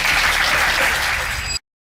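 Audience applause rises as a dense, loud burst of clapping, then cuts off abruptly into silence.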